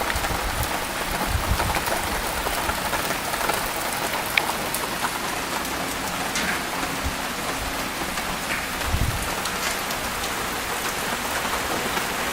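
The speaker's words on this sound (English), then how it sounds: "So, just started raining." Steady rain falls in Hawaii, a dense continuous patter on surfaces with occasional heavier drops and low rumbles, close and even throughout with no talking.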